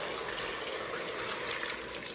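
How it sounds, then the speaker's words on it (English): Water pours steadily into a soup pot of beef, celery and celery leaves, a continuous close splashing rush with no pauses and no talking. "So I'm adding some water to cover it all up."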